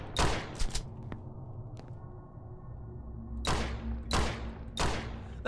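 A video game produces loud, sharp gunshot bursts: a quick cluster of shots, a pause with a low background hum, then three more evenly spaced blasts.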